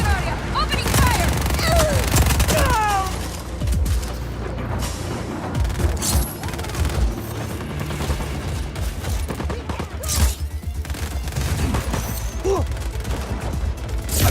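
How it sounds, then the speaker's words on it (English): Gunfire in Just Cause 4, with bursts of rapid shots, booms and mechanical clatter that come in waves, loud at first and then scattered, under and between bits of talk. "Hostile restricted area. Opening fire."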